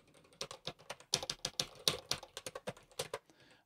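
Someone types code on a computer keyboard in a text editor, with quick irregular clacking keystrokes close by and nothing else heard.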